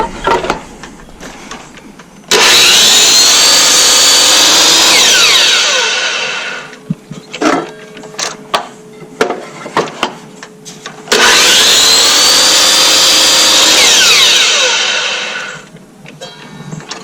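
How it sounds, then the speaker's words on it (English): A miter saw set at 36 degrees cuts wood pieces for a pentagon in two loud, close bursts: each starts with a sharp spin-up, whines through the cut and winds down, with clunks and handling noises between them. "Set your miter saw at 36 and cut from this corner up with your saw on one end, all 5 pieces."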